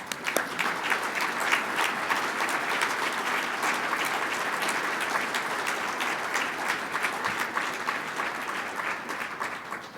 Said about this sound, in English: we can give you a round of applause for everything that you do